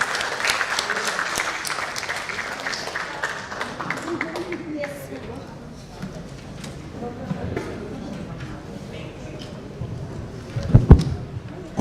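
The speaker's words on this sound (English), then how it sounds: "Please give another big round of applause for our speakers and our honorable moderators." An audience at a conference plenary panel closing claps for speakers and moderators, the applause loudest at first and thinning over several seconds as talk takes over, with a few sharp knocks near the end.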